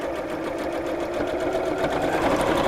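A sewing machine topstitches the flap of a crossbody bag, a continuous close whirring hum of rapid stitching with no pauses.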